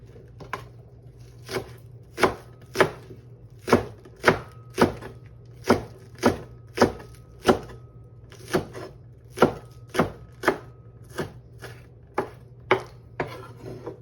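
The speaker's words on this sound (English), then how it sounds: "I'm gonna chop up the scallion." A knife chops scallions on a cutting board in quick, sharp knocks, mostly at a steady rhythm with a couple of short pauses, close and crisp with no talking.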